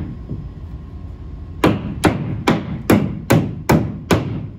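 Seven sharp, evenly spaced hammer blows drive a nail through plywood into a wall stud, loud and close after a quiet stretch of low room noise.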